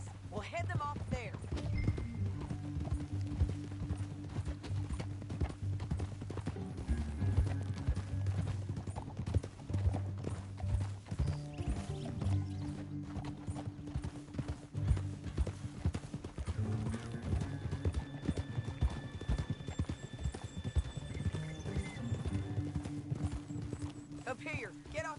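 Galloping horse hooves in Red Dead Redemption, a steady clip-clop rhythm running throughout with an occasional whinny, under game dialogue and a low musical score.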